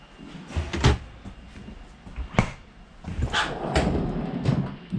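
Drawers under a refrigerator in a 2019 Cherokee 39CA destination trailer slide open and shut a few times nearby, quick wooden bumps and rolling thuds with brief pauses between them.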